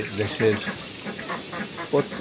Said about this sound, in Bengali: একটু দেখেন আমার 5তলা ছাদে এই যে হাঁস মুরগি